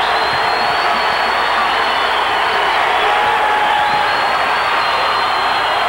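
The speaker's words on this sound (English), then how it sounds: "this sellout crowd is getting into things" A sellout college basketball crowd at a 1996 Tulsa versus Bradley game roaring and cheering in a dense, sustained wash of noise that stays loud and steady throughout.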